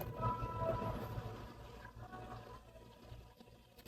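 Water is poured from a container in preparation for swallowing an oral medication, a soft continuous liquid splash and trickle that is loudest at the start and then tapers to a quieter flow.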